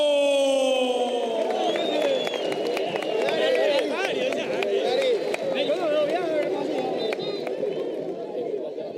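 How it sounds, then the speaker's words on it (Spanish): A large crowd at a football match between Olimpia and Nacional fills the stadium with steady, dense applause, cheering and chatter that continues unbroken, while a loud announcer's voice speaks over it. "Fuerte aplauso."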